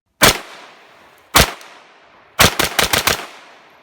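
Rifle gunshots ring out on a range: two single sharp reports with decaying echo, a pause, then a rapid string of about six shots in quick succession, loud and close with no talking.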